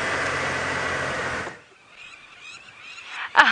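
A flock of birds calls out on a sunset safari drive in the African bush, with a run of faint, scattered honking and chattering cries after a stretch of steady noise, ending in one louder close call.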